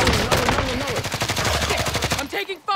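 Rapid gunfire bursts from the video game Call of Duty Warzone, loud and dense, rattling like a machine gun over a full game soundscape, then dropping off abruptly near the end.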